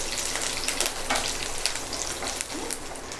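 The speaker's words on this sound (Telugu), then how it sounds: "స్టవ్ అయితే ఆపేసి వేగిస్తున్నానండి, ఎందుకంటే కరివేపాకు మాడిపోద్ది కాబట్టి నేను స్టవ్ ఆపేసాను" Curry leaves fry in hot oil in a pan with the stove switched off, a steady close crackling sizzle with sharp pops throughout.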